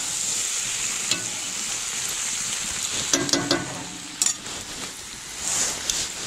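Potatoes, vegetables and meat are stirred in a kazan over a campfire, a steady crackling sizzle with a few sharp scraping knocks of the utensil against the pot, close and without talk.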